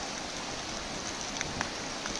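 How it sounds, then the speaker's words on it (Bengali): Heavy monsoon rain in Sylhet, with rainwater running off, makes a steady broadband hiss at moderate level, and faint scattered drips and splashes rise slightly above the wash. "এই দেখুন বৃষ্টির পানি নামছে"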